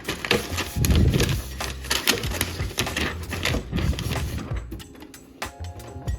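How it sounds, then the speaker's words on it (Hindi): A DTF Pro direct-to-film printer loading its film paper, giving a run of close mechanical clacks, feed-roller whirs and knocking taps that continue for several seconds, ending in quieter scattered clicks. "हमें फर्स्ट पेपर लोड करना है।"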